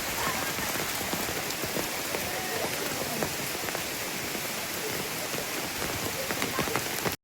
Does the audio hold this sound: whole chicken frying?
no